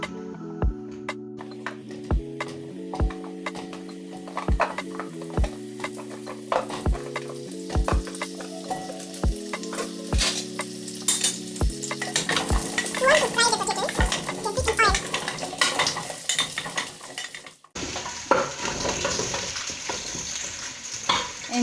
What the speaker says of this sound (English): allow the oil to be a little bit hot as I add my potatoes